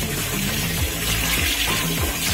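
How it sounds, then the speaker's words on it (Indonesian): Water runs steadily from a tap in a newly tiled bathroom, a continuous close rushing and splashing stream with no pauses. "Kita tes aliran airnya."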